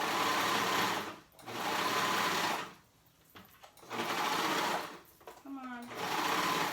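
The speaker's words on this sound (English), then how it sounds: "I'm gonna go ahead and top stitch that. I'm gonna do it with my cover stitch" Cover stitch sewing machine top stitching a thick seam on a baby romper, running in three loud bursts with short pauses between, someone briefly speaking in a gap.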